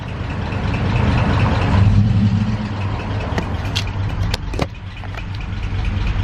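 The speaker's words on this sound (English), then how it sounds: "This is definitely the heaviest thing I've towed with the van, but it's doing all right." A van engine labours while towing a heavy 7,000-pound trailer, a loud, steady droning hum with road noise and a few brief rattles and thumps along the way.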